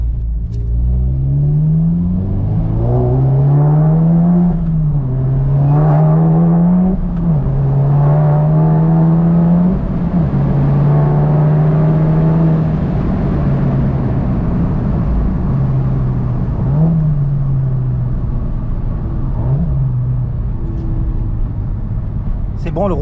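A freshly rebuilt motorbike engine runs while riding, its droning tone rising and falling as the throttle opens during break-in, steady and close, with someone talking over it.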